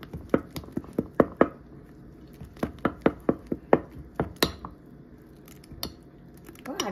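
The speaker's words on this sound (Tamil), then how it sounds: "இப்போ கலக்கிறோம். மாவு நல்லா கலக்கிட்டு" Idli batter mixed with drumstick leaves in a bowl, heard as a quick run of sharp, close tapping clicks of a utensil against the vessel, pausing briefly and then resuming, with no voice.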